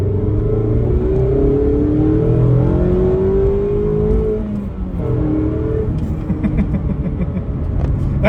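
A 2022 Mazda Miata's engine revs and accelerates loudly from inside the car, its pitch climbing steadily, dipping briefly at a shift, then building again under a constant road rumble.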